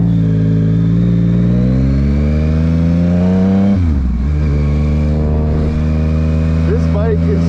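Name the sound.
Yamaha MT-09 motorcycle accelerating in power mode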